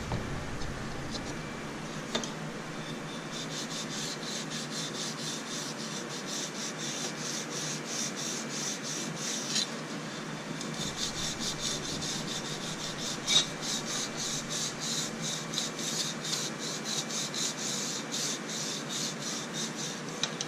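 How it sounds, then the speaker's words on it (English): Continuous rhythmic rubbing and rasping as a horse trailer's surface is wet-sanded with soapy water, steady and close for the whole stretch without speech. "I'm using water with just a little bit of soap detergent in it as a sanding medium."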